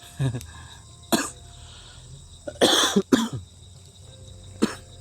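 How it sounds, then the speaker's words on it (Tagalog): Several rough coughs and throat-clearing bursts, scattered and close by, one cluster of two or three louder ones near the middle, over a low background hum. "hindi matanggal sa mga orasyon ko yung ubo ko"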